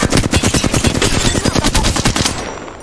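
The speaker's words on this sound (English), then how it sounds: "Getting shot at." Rapid automatic gunfire in the shooter game Apex Legends, a loud, close burst of evenly spaced shots rattling for nearly three seconds before cutting off.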